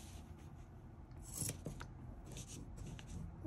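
Scissors snip through a fabric baby hat pattern, giving a steady rasping, crunching cut with a sharper burst of shears partway through, close and fairly quiet.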